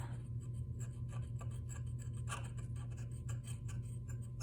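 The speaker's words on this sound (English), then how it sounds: "I've got an X-Acto knife here, and I'm just gonna scrape off" An X-Acto knife scrapes dried glue off faux stained glass in short, close, quiet strokes over a steady low hum.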